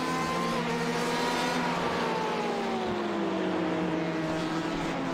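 Race cars, including a Ford, scream around a racing circuit in one continuous loud engine whine whose pitch slowly drops as the cars pass, with no talking.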